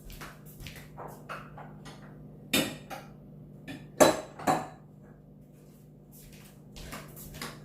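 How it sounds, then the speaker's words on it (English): Bowls grabbed and handled in a home kitchen while making bath salts, with scattered light clinks and a few sharper knocks of dishes set down, close and fairly quiet. "I'm going to grab a bunch of bowls"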